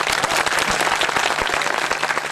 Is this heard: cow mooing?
no